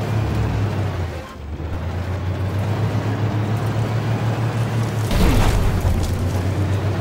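Artillery explosions in the tank game Armored Warfare hit over a steady low engine drone, with a faint thump early on and a loud, close blast about five seconds in.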